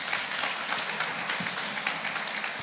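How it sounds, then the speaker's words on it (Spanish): A church congregation at a Baptist tabernacle gives a sustained burst of applause, a dense steady wash of many hands clapping at even loudness with no voices. "Démosle un fuerte aplauso al Señor."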